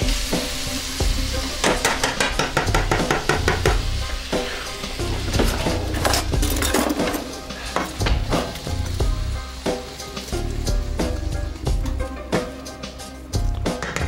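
Shallots frying in a pot for a beef roll, a continuous loud sizzle with a spoon repeatedly stirring and knocking against the pot, no talking.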